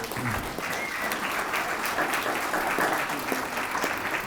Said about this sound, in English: Can you guys give him a round of applause?